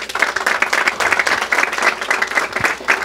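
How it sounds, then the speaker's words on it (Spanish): Sustained applause from an audience at a municipal coffee-seedling handover event, steady dense clapping throughout, loud and fairly close. "quiero pedir un fuerte aplauso para el equipo operativo y técnico del vivero municipal"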